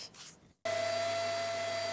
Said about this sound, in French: Si cet aspirateur fonctionne à plein régime, ce n'est pas pour la poussière, mais bien pour les poux.